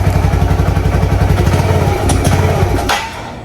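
A motorcycle engine with clogged fuel lines revs close and loud under throttle in a fast, steady thumping beat, then sputters and dies out, leaving a quieter tail.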